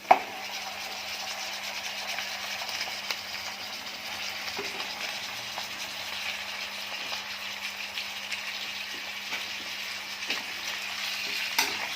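One kilo of chicken fries in a hot pan with ginger garlic paste, a steady close sizzle with occasional scraping and rattling from stirring.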